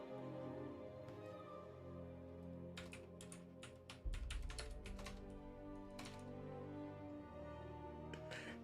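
Rapid bursts of clicking computer-keyboard keystrokes, close and fairly quiet, tapping in uneven runs with short pauses over a steady hum of game music.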